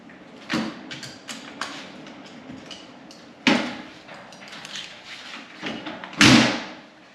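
A 1964 Ford F100 pickup door swung shut and latched, with three distinct heavy thuds spaced over several seconds, the last the loudest, each ringing briefly against a quiet garage background with no talk.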